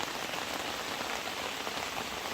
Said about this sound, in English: We ourselves have now gotten up to 5 inches of rain.